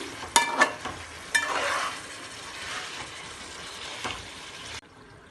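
Chicken pieces fry in a pan over high heat with a couple of spoons of coriander powder, giving a loud, close sizzle. A few sharp clatters from stirring come near the start, then the frying settles to a steady hiss before stopping abruptly.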